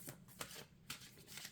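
A deck of cards is handled and shuffled up close, with a series of quick riffling bursts and soft flicks set against a quiet background.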